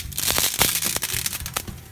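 Dry spaghetti, about half a packet, snaps in half over a pot, giving a quick cluster of sharp, close cracks and brittle crackling in a short burst.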